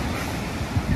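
Strong ocean surf breaking at Galle, Sri Lanka: a dense, steady wash of churning water with low rumbling surges, close and loud, mixed with wind buffeting the microphone.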